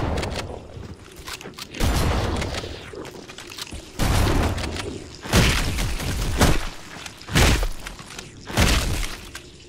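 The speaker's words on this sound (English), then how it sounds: "Just use the shotgun." Shotgun blasts fired in the video game Halo Anniversary during a fight with Flood combat forms, about five loud, booming shots spaced irregularly over a steady low background of game ambience, with no talking.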